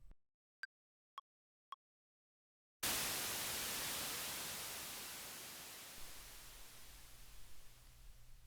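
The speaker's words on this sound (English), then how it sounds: "So we have the very attack and initial hit of that sweep, and it probably trails off and ends right here." An analog synth noise sweep transition effect, recorded in Ableton, hits after a few faint clicks as a bright burst of hiss and slowly trails off while darkening, with a low rumble underneath near the end.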